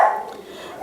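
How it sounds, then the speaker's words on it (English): Dogs bark at a woodchuck in a garden: one sharp bark, then a short gap, then another bark begins at the end. "So the dogs have been going crazy."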